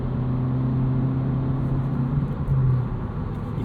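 A 2025 Honda Civic Si with a six-speed manual drones steadily in the cabin on a city drive. The engine note holds, then briefly rises, as in a rev-matched shift, with no talking.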